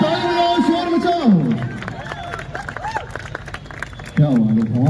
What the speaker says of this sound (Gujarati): તાળી બજાવો, શોર મચાવો.